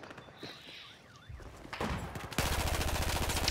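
Gunfire in the video game Battlefield 4, faint distant shots at first, then a loud rapid burst of automatic fire rattling steadily to the end.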